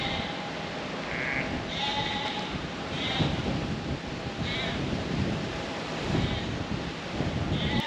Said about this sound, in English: He's a nice sheep.